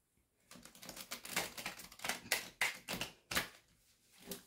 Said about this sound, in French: On va bien mélanger les cartes.